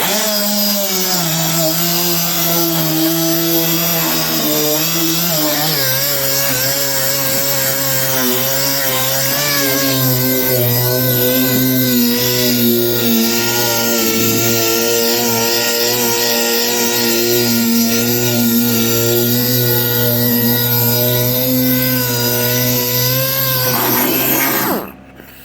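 Electric sander running steadily while wet sanding a John Deere LA115 riding mower deck, a loud continuous buzzing whine with wavering pitch, held for about 25 seconds before stopping abruptly.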